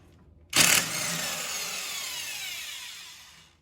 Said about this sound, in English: We're gonna use an impact wrench to get that off.